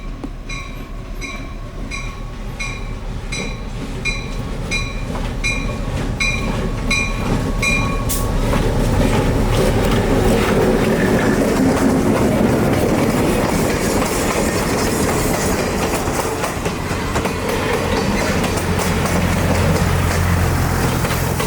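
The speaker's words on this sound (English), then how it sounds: "this Saturday's 2 p.m. Willow Express, being pulled by CF7 locomotive number 204" A CF7 diesel locomotive, number 204, hauls a passenger excursion train past at a railroad museum, with rhythmic wheel clatter over rail joints and a steady, loud rumble that builds and holds close by.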